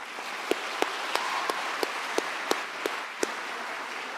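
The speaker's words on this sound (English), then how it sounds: "So let's have a round of applause for you guys." Applause from students at a welcome event for the incoming university class in Madrid, a steady crowd wash with distinct sharp claps punctuating it about every third of a second.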